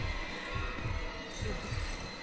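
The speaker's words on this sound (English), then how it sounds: "There's a lot of heartbeats" Heartbeats thud in the Outlast horror game, a steady run of about five low double-beat pulses over a humming, tense ambient backdrop, with no talk.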